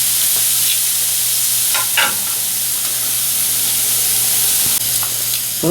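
Raspberry balsamic pork tenderloin sizzling over a hot grill flame, a loud continuous frying hiss with a few faint clicks and scrapes, no voices.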